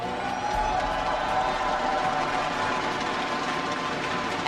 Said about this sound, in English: Thanks for cheering, all of you.